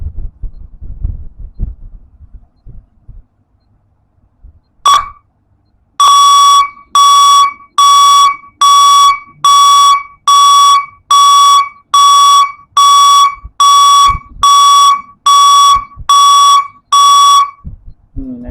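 Loud 12/24 V electronic vehicle reversing buzzer beeping in a steady rhythm, about a dozen sharp, piercing tones, preceded by faint handling noise.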